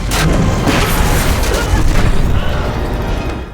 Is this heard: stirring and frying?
no